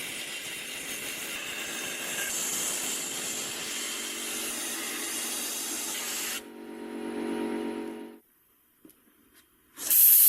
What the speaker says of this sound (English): The chassis plates are resprayed with a maroon powder coating to match the interior color of the gramophone casing.